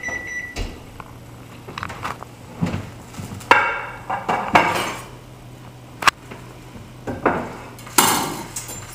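Roasted acorn squash is lifted out of a metal roasting pan, giving scattered clanks and scrapes of metal and utensils over a faint low hum, with a few sharper knocks between quieter pauses.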